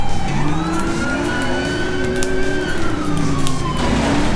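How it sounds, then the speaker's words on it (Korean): A 1000-horsepower V8 car engine in GTA V whines and revs with rising and falling pitch, sounding smooth and synthetic, with a siren-like tone sweeping above it. "엔진 소리가 사이렌 소리랑 비슷해"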